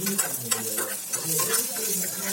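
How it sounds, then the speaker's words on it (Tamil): Urad dal and a piece of ginger sizzle and fry in a pan while being stirred, a steady close crackling hiss with repeated scraping stir strokes throughout. "ரெண்டு டேபிள் ஸ்பூன் உளுந்து அதையும் இது கூட சேர்த்து நல்லா சேர்ந்து வறுத்துக்கலாம்"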